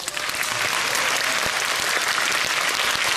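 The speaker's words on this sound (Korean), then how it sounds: "그 박수 한번 주시죠." Film festival audience at a screening Q&A breaks into loud, dense applause, a steady wash of many hands clapping close up throughout.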